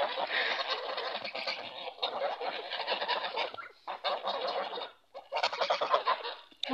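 A flock of waterfowl, geese or swans, honks and cackles almost nonstop. The calling is dense and close, with one brief lull near the end.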